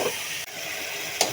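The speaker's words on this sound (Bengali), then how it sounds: "এইদিকে ফ্রাই প্যানের মধ্যে সয়াবিন তেলের উপরে মসুর ডাল এবং চীনাবাদাম ভেজে নিচ্ছি" Red lentils and peanuts sizzle in soybean oil in a frying pan, a steady close hiss with a brief dip and a sharper crackle near the end.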